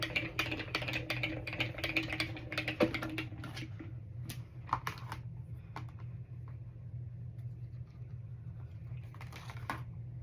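Paper and a die are cranked through a Spellbinders Grand Marquise die-cutting machine, giving a quick run of close, sharp clicks and rattles over a steady low hum. The clicking thins out to sparse taps partway through.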